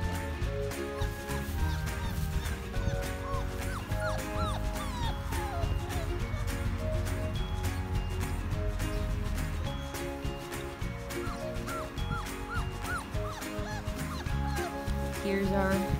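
German Shorthaired Pointer puppies whine and yip in high, thin cries, steady and close, with a person talking over them and background music playing.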